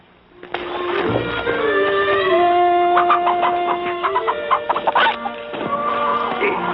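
Chickens cluck and squawk in a farmyard in a classic Western, a busy run of close, rhythmic clucks and rising calls with no talking over them.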